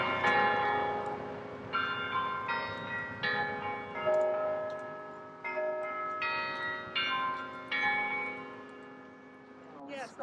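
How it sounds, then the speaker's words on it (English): Carillon bells ring out across North York City Centre, a series of sustained, overlapping chimes sounding at a moderate distance in an open outdoor setting. "and the carillon, which I always call Mel's Bells"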